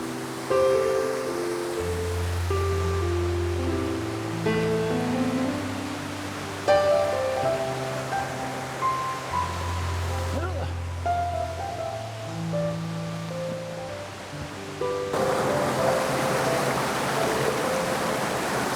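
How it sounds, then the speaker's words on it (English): A small waterfall spills down a wooded river gully in Padley Gorge, giving a steady close rushing and splashing wash that continues throughout, with low tonal hums layered underneath. "Just here in the river, I've found a really interesting gully that's got a waterfall coming down it."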